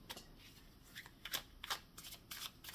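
Tarot cards shuffled by hand, quiet crisp riffling bursts and soft card slaps in an irregular rhythm, close and faint with no talk.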